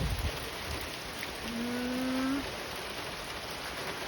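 Steady heavy rain with hail fills the whole stretch, a dense even hiss and patter with a brief low engine-like hum in the middle.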